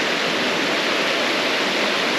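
A shallow river, about a foot deep, flows past a bridge below mountains. It makes a steady, loud, full rushing wash of water with no pauses and no voices.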